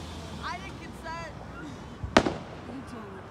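Independence Day fireworks in the distance: one sharp loud burst with a short crackling tail, over steady background noise and occasional speech and whistling sounds.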